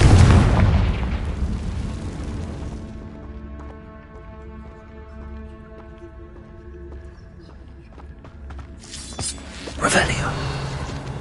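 A loud Confringo fire spell explodes in the Hogwarts Legacy video game, a heavy booming burst that fades into a low rumble with tonal music, and a second sharp blast comes near the end.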